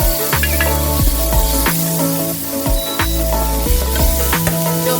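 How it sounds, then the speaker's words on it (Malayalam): Green chillies and curry leaves crackle and sizzle loudly in hot oil in a pan while being stirred, with steady spitting hiss and repeated scraping strokes of a utensil against the metal, no voices. "ഇളക്കി യോജിപ്പിച്ച് കൊടുക്കാം."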